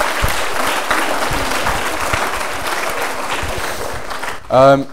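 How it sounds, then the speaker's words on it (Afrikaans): An audience claps warmly at a South African Afrikaans school seniors event, dense applause running steadily before a voice briefly speaks at the very end. "'n lekker hande klap"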